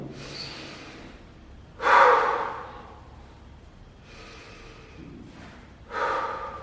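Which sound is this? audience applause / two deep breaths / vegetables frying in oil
two deep breaths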